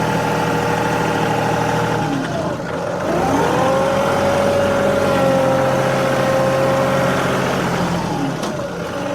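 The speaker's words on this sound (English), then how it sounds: "bring it down flat, and back drag like this" Tractor engine running steadily at idle-to-working speed while back dragging with a front end loader, a loud continuous low drone whose pitch rises and holds through the middle before easing down, heard alone.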